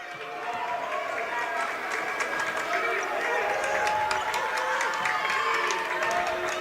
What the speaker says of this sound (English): And that brings this Monona Grove crowd to life